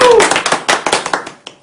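Audience clapping at a church youth lecture, a handful of sharp, separate claps landing irregularly and fading out, with a voice briefly audible at the start.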